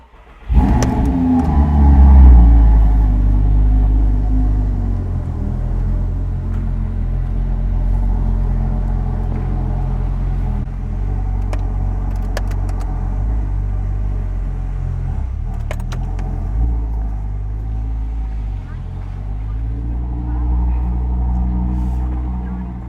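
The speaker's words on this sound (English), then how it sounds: "I'm going to start up a big V10 engine" An Audi R8 V10 with manual gearbox fires up with a loud burst, then settles into a deep, steady idle rumble with occasional small revs, close and alone without talk.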